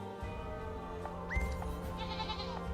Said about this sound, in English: This goat appears to be hungry, but I don't have anything for it to eat.